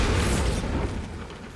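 A Bombarda blasting spell explodes in Hogwarts Legacy with a loud, close, dense boom that fades away over about a second.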